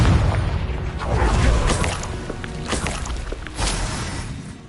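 A Confringo fire spell blasting in the Hogwarts Legacy video game, a loud low boom with rumbling, crackling impact bursts that swell and fade over a few seconds, with no voice.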